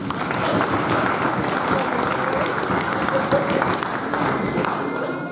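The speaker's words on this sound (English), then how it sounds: "please put your hands together again for the committee, please" Audience applause at a cricket league annual awards presentation, a steady, dense round of clapping from a large room that continues for over five seconds with faint crowd murmur beneath.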